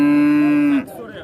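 A bull calf at a livestock market gives a single loud, close moo, a sustained tonal low lasting under a second that breaks off abruptly, followed by faint background noise.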